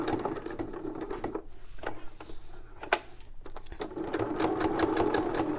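Sewing machine stitching around a corner of a sewing tag, a continuous close whirring hum with a brief slowdown and single sharp clicks as the needle stops down, then resuming at full speed.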